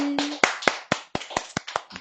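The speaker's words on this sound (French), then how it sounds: "On peut l'applaudir, s'il vous plaît." A few people clap sparsely for a performer on a TV arts show, about ten separate sharp hand claps in an uneven rhythm, close and clear.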